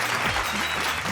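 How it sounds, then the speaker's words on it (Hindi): Sustained applause from a poetry-reading audience welcoming a poet on stage, a dense steady clatter of clapping filling the whole moment with no break. "जोरदार ताली के साथ भाई मनोज का स्वागत कीजिए।"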